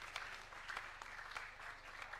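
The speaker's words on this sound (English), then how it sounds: "let us first of all give a round of applause to the Honorable Duale" Faint applause from members in the National Assembly chamber, a soft continuous patter of clapping heard at a distance for a couple of seconds.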